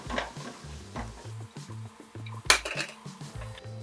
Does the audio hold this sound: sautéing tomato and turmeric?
yes